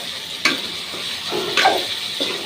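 Papaya and taro are sautéed in a pan. The soft, close sizzle carries several distinct stirring scrapes, each a short rasping burst, with no talking.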